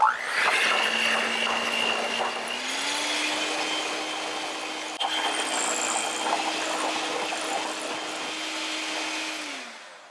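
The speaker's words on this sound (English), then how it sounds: "I'm going to be using a hand mixer today, but you could also use a stand mixer." Electric hand mixer whirring steadily as it beats heavy cream and white sugar toward stiff peaks, a continuous close motor hum that rises slightly in pitch partway through and runs alone until it stops.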